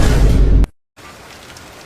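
Heavy rain pouring down as a loud, dense hiss for about half a second, then cut off abruptly and followed by a much softer, quieter background.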